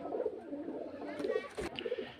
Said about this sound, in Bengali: এই যে সব খাঁচাতে পায়রা পুরো ভর্তি আছে